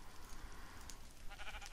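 Faint sheep bleats from the video game Minecraft, a couple of short, soft calls over a low background hum.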